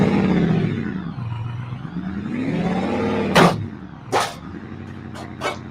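Off-road vehicle engine in a rock crawling video game, held at full throttle along a trail, droning and rising and falling in pitch, with a few sharp bursts cutting in near the end.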